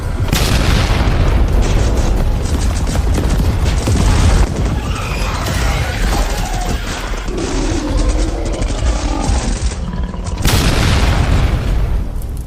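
Loud, dense bombardment from an animated sci-fi battle as waves of thermobaric and hydrogen bombs strike a zombie horde. Booming blasts and crashing rumbles roll almost without pause, cut off briefly and then surging back.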